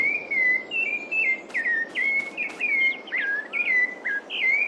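A bird in Farming Simulator 22, on a Polish farm map, sings a loud, clear string of repeated whistled phrases with short gaps between them, heard close and alone over a quiet background hiss.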